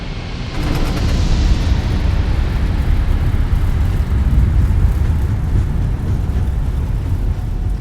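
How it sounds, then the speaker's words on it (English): Simulated airliner thrust reversers roaring during a landing rollout in Microsoft Flight Simulator, arriving at Queenstown, New Zealand; a loud, steady broadband rumble that holds evenly for several seconds without letting up. "80 knots already, so reversers can come off"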